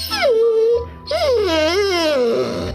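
A dog whimpering and yelping in pain after being shot, a sound effect in a radio advertisement: a high cry that slides downward, then a longer wavering whine, close and loud.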